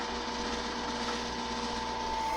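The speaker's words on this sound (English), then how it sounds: "now we're going to drill our 1/4 inch" A power drill boring a 1/4 inch hole, a steady unbroken motor whine with a constant pitch, moderately loud and close, with no other sound over it.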